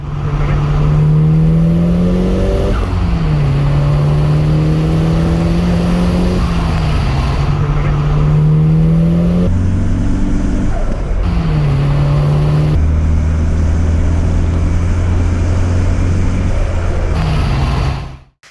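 A Nissan S15 Silvia fitted with a boost controller drives on a test run, its engine droning loud and close with repeated rising revs and gear changes, the pitch climbing and dropping through several pulls.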